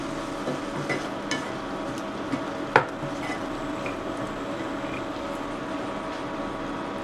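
Chili sauce, soy sauce and vinegar stirred together in a pan for restaurant-style gobi manchurian: a constant low sizzle with soft scraping stirs and a sharper clink of the spoon near the middle, no talk.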